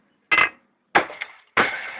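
A hammer whacks an old TV's picture tube during scrapping, landing three sharp, loud, close-up blows spaced about half a second apart, each followed by a short clattering rattle.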